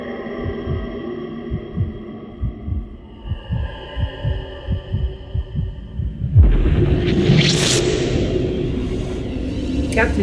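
A slow, deep, thumping heartbeat in the video game Call of Duty Infinite Warfare, steady and close over a low hum, giving way to a louder rushing ambient swell near the end.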